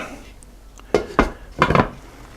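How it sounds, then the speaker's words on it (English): Chicken and dumplings stirred gently in a pot: a few scattered utensil knocks and scrapes against the pot, irregular and close, with quiet background in between. "now you want to stir it gently so you don't break those up"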